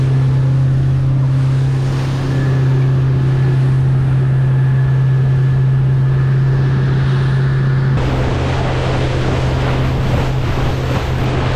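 A boat engine drones steadily on the water at around 4,000 RPM, loud and close with a constant low hum and wash of water, briefly shifting in tone partway through.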